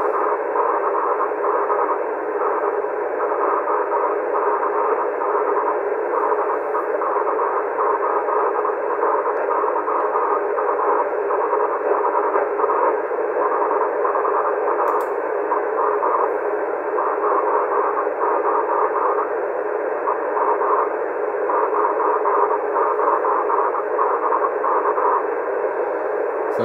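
A distant amateur radio station's 2 meter auroral signal, received about 470 miles away in Michigan, comes through as a steady, buzzy, raspy band-limited tone. It is loud and continuous with slight pulsing for nearly half a minute.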